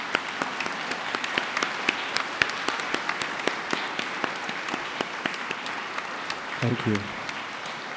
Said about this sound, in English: Can I kindly ask all our graduates to stand and join me in giving them a round of applause.